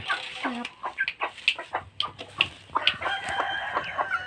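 Chickens cluck in short overlapping bursts on a farm breeding fighting cocks, with a rooster crowing partway through, moderately close and busy with many birds.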